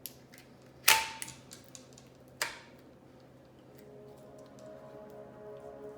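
A trigger group is fitted back into a PTR 91 rifle, giving two sharp close metallic clacks a second and a half apart, followed by quiet handling noise and a faint steady hum.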